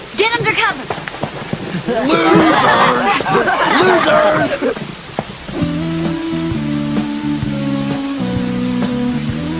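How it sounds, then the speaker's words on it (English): Cartoon rain starts falling as a dense hiss of drops over animated characters talking and shouting, followed by a short tonal music cue while the rain continues underneath. "Uh-oh, it's starting to rain."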